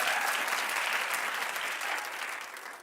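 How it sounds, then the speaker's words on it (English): Comedy club audience clapping in response to a question, a brief burst of dense applause from a crowd that fades slightly toward the end. "Clap if you've taken a sleeping pill."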